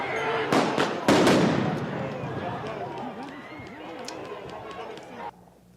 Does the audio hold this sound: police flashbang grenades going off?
yes